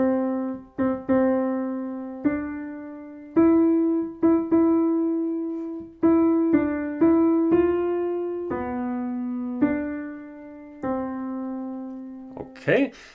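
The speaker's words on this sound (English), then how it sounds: "We're going to play the first little phrase of the piece." Slow piano melody of the opening phrase of "O Christmas Tree", played as single sustained notes one at a time with pauses between, clear and close with no talking.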